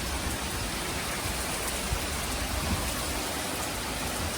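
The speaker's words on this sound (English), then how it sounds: "Rain is coming out heavily." Heavy rain pours steadily through a severe thunderstorm, a dense, continuous roar of drops on surfaces with no pauses, close and loud throughout.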